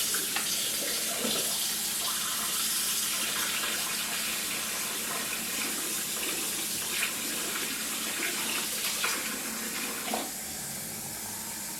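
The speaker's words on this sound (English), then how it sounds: "I'm going to run more cold water into here" Cold water gushes steadily from a tap into a container while making acorn flour, a continuous close splashing hiss that stays even throughout, with faint clinks near the end.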